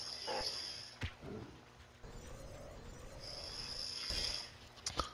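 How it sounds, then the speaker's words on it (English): A woman snores faintly in slow, irregular breaths across a few seconds, with a couple of soft clicks and little else around. "All you hear is her snoring."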